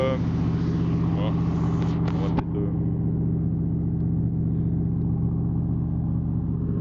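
A 1964 Corvette's engine runs at a steady, loud idle close by, a deep continuous rumble with a brief disturbance partway through.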